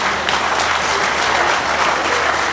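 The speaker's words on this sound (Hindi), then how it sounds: "तालियों की गड़गड़ाहट रुकनी नहीं चाहिए।" Dense, loud applause from an audience at an Arya Parivar Shivganj honouring event for Swami Pranavanand, continuous clapping held evenly throughout with no break.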